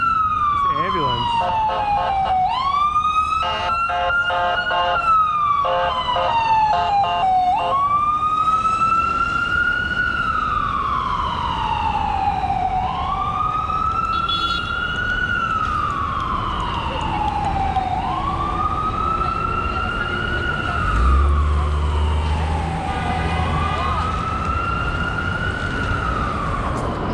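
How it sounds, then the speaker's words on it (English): Ambulance siren wailing on a New York City street beside a bike lane, loud and close, its rising-and-falling cycles repeating steadily over traffic rumble. "this ambulance."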